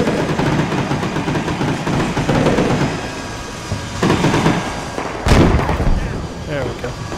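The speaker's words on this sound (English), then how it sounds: "Oh, so we're taking RPG fire" A heavy boom from an RPG striking a tank in Combat Mission: Shock Force rises above a constant rumble of battle, while someone talks throughout.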